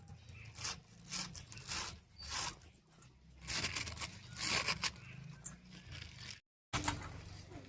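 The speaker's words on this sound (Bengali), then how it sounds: "আজকে রান্নার জন্য শাকটা একটু কুচি করে কেটে নিলাম," Spinach being finely chopped with a knife, heard close up as a run of rough, scraping cuts in uneven bursts, with one brief pause near the end.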